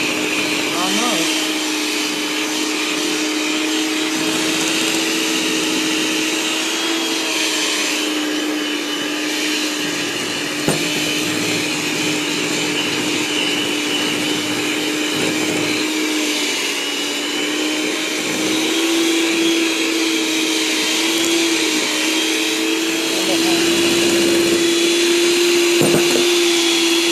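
An electric mixer whirs steadily as it beats fresh apple cake batter with cinnamon, a loud continuous motor drone that rises slightly in pitch near the end, with a few voices speaking over it.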